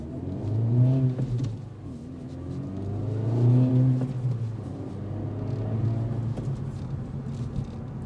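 A 2025 Acura Integra Type S in Sport Plus mode accelerating hard, its engine revving up through the gears in rising sweeps with brief dips between shifts, heard from inside the cabin with no talking.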